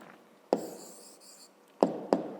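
A pen writing an answer by hand on paper in a school maths exercise, soft scratchy strokes punctuated by three sharp taps, close and quiet.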